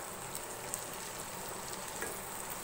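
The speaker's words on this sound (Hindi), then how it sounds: "लहसुन अदरक डालने के बाद मैंने इसको भून लिया।" Onion with garlic and ginger paste frying in a pan over medium flame, a steady, even sizzle with soft crackles throughout and no talking.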